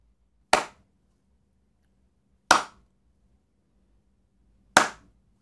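Three sharp hand claps in a room, spaced about two seconds apart, each a crisp loud crack with a short decaying tail and silence between.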